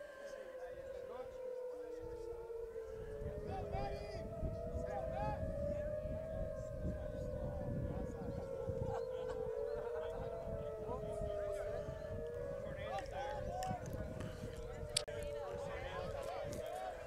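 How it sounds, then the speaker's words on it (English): Outdoor tornado warning siren wailing from a distance at a rugby match, its long rising and falling tone sweeping steadily on a sunny, slightly windy day. "That's just a warning siren. That's not an actual tornado coming to kill us all."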